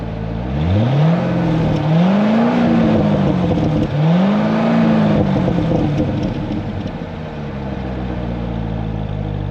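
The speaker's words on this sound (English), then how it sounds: "I'm gonna give y'all a little rev actually real quick." Base-model Chevrolet Corvette C6 engine revving up loudly and close, with several rising and falling throttle blips over a steady rumbling idle.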